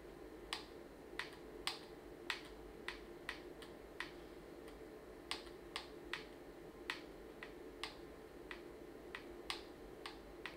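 Faint steady hum of a projector running quietly, overlaid by a dozen or so sharp, close button clicks at irregular intervals; no talking.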